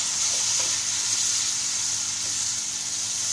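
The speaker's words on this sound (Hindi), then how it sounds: "अब हम इसमें नींबू का रस डालेंगे।" Lemon juice poured into a pan of cooking masala for lemon pepper chicken, producing a steady, close, bright hissing sizzle that stays even throughout with no speech.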